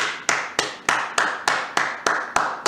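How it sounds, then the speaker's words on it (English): Nine evenly spaced hand claps ring out alone in a steady, deliberate rhythm, each a sharp close snap with a short decaying tail, recorded at the start of a podcast. "Clap, baby."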